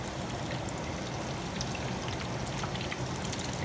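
Chicken cordon bleu fries in a pan on a stove indoors, giving a dense, even crackling sizzle that holds steady and fairly close throughout.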